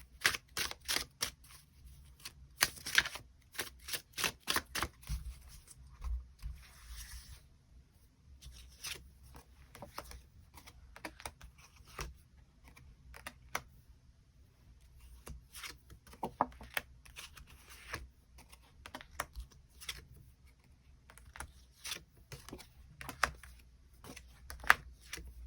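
Tarot cards shuffled and drawn by hand, coming as quick riffling bursts and soft snaps in irregular clusters, separated by quiet pauses, close and fairly faint.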